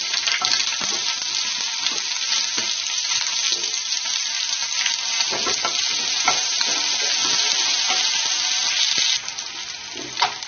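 Chopped onion pieces sizzle in hot oil with whole spices for a mushroom curry, giving a loud, steady, close frying hiss broken by occasional stirring scrapes.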